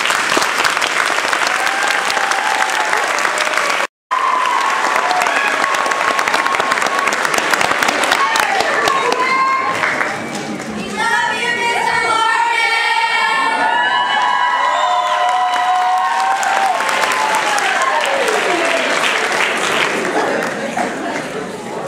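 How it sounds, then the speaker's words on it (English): An audience at a 7th grade choir concert claps loudly and steadily for the children's teachers, with whoops and cheers rising through the ovation and a brief gap near the start. "we owe it to our children's teachers to give them a round of applause"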